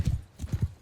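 Cavalry hooves in the video game Mount & Blade 2 Bannerlord, several quick clip-clop beats of galloping horses, close and moderately loud, in a short burst.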